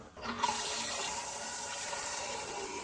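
Toilet cistern refilling after its flush mechanism was replaced, water rushing in with a steady hiss that starts abruptly and continues evenly, close by.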